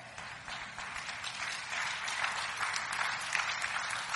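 An audience at a sermon breaks into sustained applause, a dense wash of clapping hands that grows slightly fuller as it continues.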